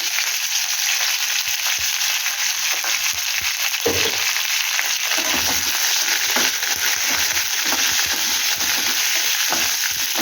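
Curry leaves and a chili crackling in hot oil with roasting urad dal, a dense continuous sizzle with sharp pops and occasional stirring scrapes, close and steady, no voices.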